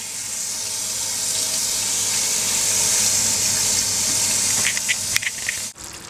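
Veal blanquette ingredients are rinsed by hand under a running tap, a steady close rush of water that continues for several seconds, then breaks into a few splashy bursts before cutting off near the end.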